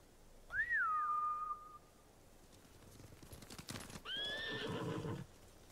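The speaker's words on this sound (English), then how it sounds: "Bastards scared off the horses." Samurai horses whinny in Ghost of Tsushima: a loud, sharp neigh close by, then hooves clattering and a second, rougher whinny as the frightened animals flee.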